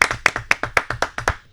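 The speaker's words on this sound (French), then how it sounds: "Allez, on l'applaudit." Sparse hand claps from a small studio audience on a French talk show, a handful of separate, uneven claps over a second and a half with no voices.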